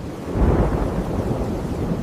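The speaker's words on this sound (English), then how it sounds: "Oh no, a storm is coming." A thunderstorm rumbles with deep, rolling thunder under heavy rain and gusting wind, a loud, dense, continuous roar swelling slightly early on, with no voices.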